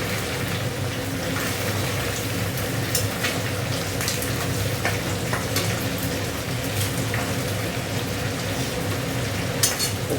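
Whole spices, bay leaf and dried chillies sizzle in hot oil with a constant, dense crackling hiss, close and steady for several seconds, with occasional faint scraping of a stirring utensil.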